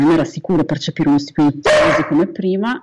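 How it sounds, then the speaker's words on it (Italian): A dog barks once or twice indoors, briefly and fairly close, mixed in under continuous Italian speech. "Questo era il mio cane."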